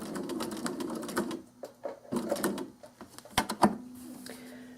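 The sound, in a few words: sewing machine stitching faux-piped binding with monofilament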